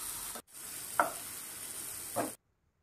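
Yogurt and spices frying in oil for dhaba-style paneer masala, a steady close sizzle with two brief scraping stir strokes, cut by a short gap near the start and falling silent at the end.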